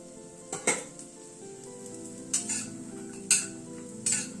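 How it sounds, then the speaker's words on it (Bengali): Lentil dumplings (bori) of banana-flower lentil paste frying in hot mustard oil, a low steady sizzle broken by four sharp clinks of a utensil against the pan. "বড়িটাকে ভেজে নিচ্ছি"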